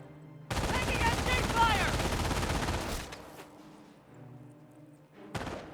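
Machine gun fire in Company of Heroes 1 rattles in a dense, loud burst lasting a few seconds. It fades into quieter battlefield rumble, then a second short burst cuts in near the end.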